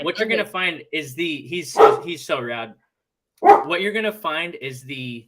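A pet dog barks a couple of times in the background while a person keeps talking over it, the barks mostly masked by the speech.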